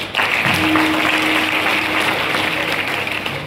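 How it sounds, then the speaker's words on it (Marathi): Crowd clapping continuously after a call to applaud the organisers at a Marathi kirtan gathering, a steady dense roar of hands that stays loud throughout. "एकदा आयोजक संयोजक नियोजकासाठी जोरदार टाळी वाजवा"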